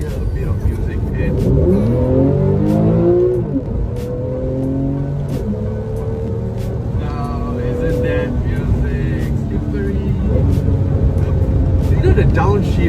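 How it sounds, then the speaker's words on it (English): A Porsche 991.1 Carrera S flat-six with the sports exhaust open in sport mode revs up and down repeatedly in close, loud bursts, with someone talking over much of it. "I turn my sports exhaust on just to hear a bit of music"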